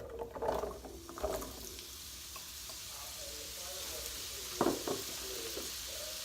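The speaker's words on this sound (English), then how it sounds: "So I put 2 tablespoons of canola oil in the pan, and I'm going to put the sweet potatoes" Sweet potatoes go into a pan of hot canola oil with a soft, steady sizzle, punctuated by a few clattering knocks and scrapes as they tumble in; faint and moderately close.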